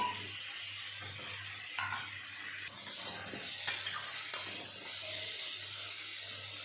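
Hyacinth beans frying in a pan with a little salt, a constant close sizzle broken by scraping stirs and a few sharp crackles, with a low steady hum underneath and no talking.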